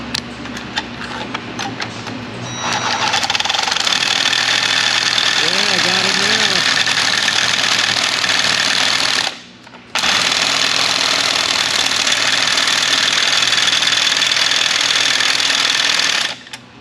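Sawzall reciprocating saw cutting into a 1995 Jeep Wrangler 4.0, a loud harsh buzzing rasp that runs in two long bursts with a short pause between, preceded by a few seconds of quieter idle and brief voice.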